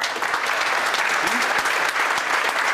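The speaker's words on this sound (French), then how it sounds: "On peut applaudir Philippe Samin" An audience applauds steadily and evenly from start to finish, a dense clatter of many hands in a hall.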